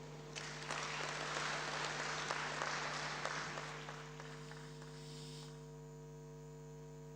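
Conference audience applause at an African free trade area women and youth forum, a sustained wash of clapping over steady electrical hum that thins out after about four seconds, leaving the hum alone.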